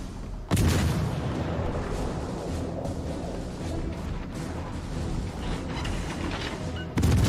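Naval combat in the video game World of Warships Legends, warship gunfire and torpedo hits: a loud booming blast opens, continuous heavy rumble and distant shots follow, and another big boom lands at the end.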